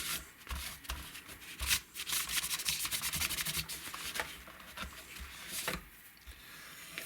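A Squier Stratocaster guitar, a 20th Anniversary model needing work, is wiped and cleaned by hand, giving soft, uneven rubbing and scuffing strokes that are close and fairly quiet, with a few sharper brushes.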